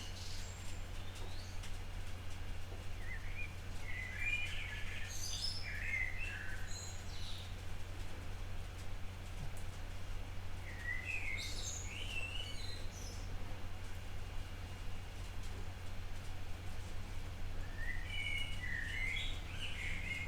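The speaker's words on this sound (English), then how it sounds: "I hope that you're enjoying the birds as well in the background." Birds chirp and sing in bursts outdoors, small tweeting phrases repeating every few seconds at a moderate distance over a steady low hum.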